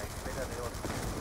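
Gunfire in a shooter video game, a faint, dense rattle of shots running through the whole short moment beneath a busy game mix.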